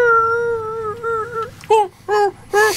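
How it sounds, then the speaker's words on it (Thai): A dog-like howl, close and loud: one long, wavering note for about a second and a half, then three short, rising-and-falling howls separated by brief gaps. "ต้องหอนแบบนี้ด้วยคลาสสิก"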